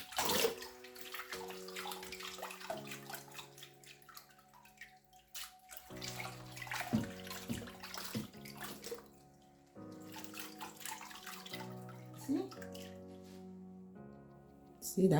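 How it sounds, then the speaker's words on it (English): Water poured off Nigerian ofada rice splashes and trickles in uneven pours, fairly close, with a voice speaking over parts of it. "Then what you're going to do now is decant this water."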